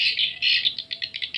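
Recorded swiftlet lure call (suara inap) played through a speaker: a dense run of high, buzzy chattering twitters, continuous at first and then breaking into rapid pulsed bursts, loud and close.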